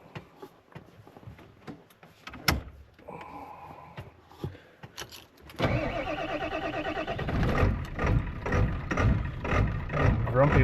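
A 1994-1997 Ford OBS truck running an automatic PCM with a five-speed cranks roughly, then catches and settles into a steady, loud engine rumble that carries to the end.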